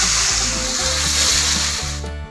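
Marinated sarpunti fish sizzling in hot mustard oil, a loud, steady, close frying hiss with crackle that cuts off abruptly near the end.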